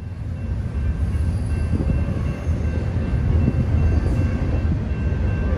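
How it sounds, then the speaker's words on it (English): A long freight train pulled by engines at the front rumbles past close by, a steady low roar with rattling wheels and clanking cars that keeps going throughout, with no voices. "This train is using a pull force. Notice how the engines on the front are being used to pull the rest of the train cars."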